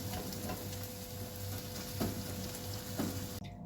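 Oil frying in a pan over low heat, giving a steady soft sizzle with a couple of faint clinks from a utensil, heard alone at moderate distance.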